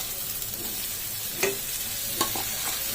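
Mashed raw jackfruit and boiled potato with garam masala being mixed in a frying pan, a soft steady hiss with a few sharp spatula scrapes and taps against the pan, close by.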